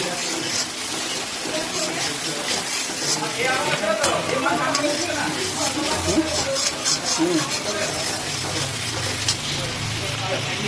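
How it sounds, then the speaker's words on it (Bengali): Onion paste fries loudly in a pan for a Bengali rohu fish curry with yogurt, a dense crackling sizzle throughout, with a voice faintly audible underneath. "এখানে প্রায় 10 মিনিট মতন পেঁয়াজটা কিন্তু ভাজা হয়ে গেছে"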